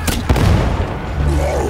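A sniper rifle shot in Warhammer 40K: Darktide fires as a sharp, loud crack followed by a second quick boom, with a rumbling tail after it.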